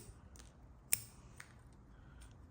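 Pruning shears cut a Japanese maple bonsai branch during winter cleanup, giving a single sharp, close snip in a quiet room, followed by a faint softer click.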